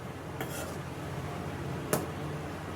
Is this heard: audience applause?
no